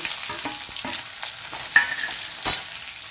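Sliced onion hits hot oil in a pan while mutton keema with potatoes is being cooked, giving a soft sizzle broken by several sharp scraping clicks of a spatula stirring.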